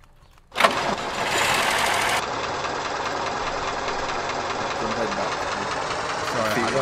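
A vehicle engine in the survival game Unturned starts abruptly and then runs loud and steady, with a rough knocking drone that continues throughout without pause.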